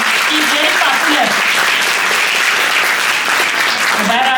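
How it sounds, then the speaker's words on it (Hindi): An audience at an International Women's Day event in Malegaon applauds loudly and continuously, with a voice speaking over the steady clapping. "ये देखिए, तालियों की धूम बता रही है"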